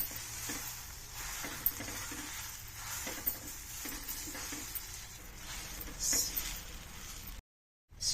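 Sweet corn paste with gram flour sizzles and fries gently in a pan over a low flame, with steady soft crackling, occasional stirring scrapes and clinks, and a brief silent gap near the end.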